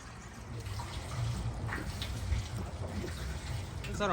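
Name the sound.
coolant being poured into a Kenworth W900 truck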